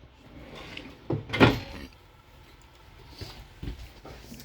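A good-sized kitchen drawer for pots and pans in a 2022 Forest River Salem Hemisphere 19RBHL travel trailer slides and bumps shut in one close thud, with fainter knocks afterward.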